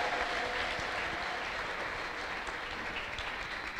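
A church congregation claps together: dense, even applause from many hands that fills the room at a steady level for a few seconds.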